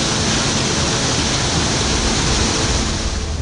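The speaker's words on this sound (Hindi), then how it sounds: "पानी की रफ्तार देखिए जिसकी आवाज आपकी नींद उड़ा सकती है।" A famous waterfall suddenly bursts into a flood of rushing water, giving off a loud, dense, unbroken roar that fills the whole moment without pause.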